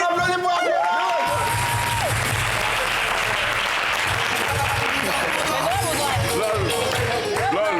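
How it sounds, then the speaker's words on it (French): An audience claps and cheers for Abiola, steady loud applause lasting throughout with whoops and crowd noise mixed in, while voices speak over it. "On applaudit pour Abiola."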